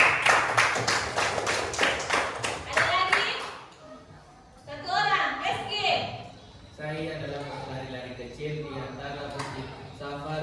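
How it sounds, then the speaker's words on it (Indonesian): An audience at a lesson on hajj jurisprudence claps in a quick, rhythmic burst of about ten claps. A voice then speaks with a faint ringing behind it. "Tepuk tangan dulu sini."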